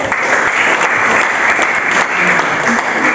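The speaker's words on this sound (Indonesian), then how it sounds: "Bagus, tepuk tangan nih ya." Students in a junior high school classroom in Bogor clap together for a classmate, a loud, close, continuous patter of many hands that fills the room for several seconds.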